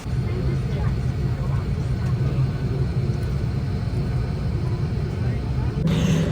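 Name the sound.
passenger airliner pushing back and taxiing towards the runway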